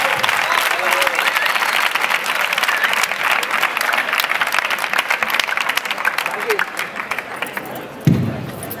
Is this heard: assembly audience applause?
yes